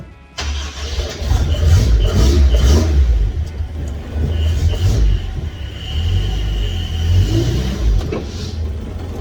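A Toyota Corolla KE10 engine runs steadily as the old car creeps forward on its first drive in 20 years, a loud low rumble filling the whole stretch with slight surges in revs and a faint brake squeal near the end.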